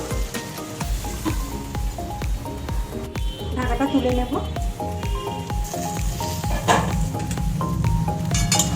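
Bitter gourd, onion and green chili frying in a pan, a steady close sizzle and crackle running beneath a person speaking throughout.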